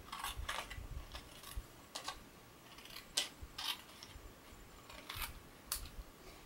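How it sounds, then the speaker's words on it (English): Sharp, quiet scissor snips trim stamped paper along a line, coming in short irregular clusters of crisp cuts close by with no talking. "then you would just trim this out with some scissors."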